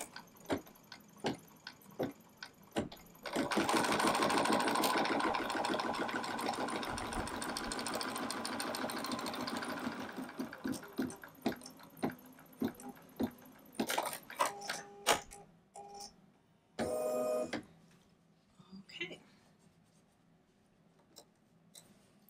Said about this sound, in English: Let's go ahead and sew this.